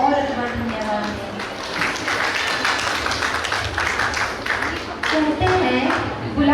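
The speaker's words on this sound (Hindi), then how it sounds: "तो चलिए जोरदार तालियों के साथ उनको और एक बार धन्यवाद दें।" Audience applause at a stage programme for a first profession ceremony of the Daughters of the Cross, Rourkela Province, a sustained dense clapping wash filling the hall throughout, steady and fairly loud with a brief swell near the end.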